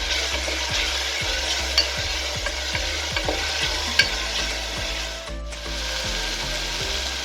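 Onions sauté in a pan, with a steady sizzle broken by rhythmic scraping strokes of a spatula stirring, close and fairly loud, with a brief pause near the end.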